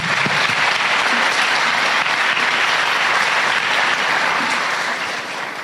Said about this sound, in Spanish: quisiera que todos le demos un aplauso a nuestra pionera, Florence Nightingale